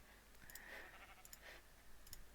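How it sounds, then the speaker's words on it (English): Sheep in a video game bleating faintly twice amid soft clicking, heard quietly over low background hiss. "I heard a sheep"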